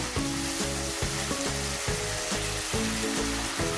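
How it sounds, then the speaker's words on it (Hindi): Mutton karahi sizzles loudly in the pan as it is roasted, with rhythmic stirring strokes about every half second over a constant frying hiss. "ये देखें इसका कितना प्यारा सा रंग आ रहा है, इसकी भुनाई हो रही है"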